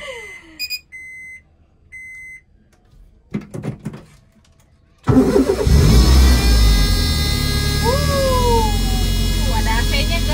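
A Honda Brio engine cranks and starts after several short beeps and clicks, then idles loudly and is revved up in rising sweeps. Someone speaks faintly in the background.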